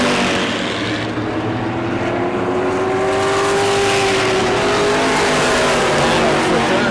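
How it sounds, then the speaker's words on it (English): A loud race car engine at a New Smyrna heat race roars continuously, its pitch rising and shifting as it accelerates, with a steady rumble of other cars behind. "That old number 16, man, that's an old race car."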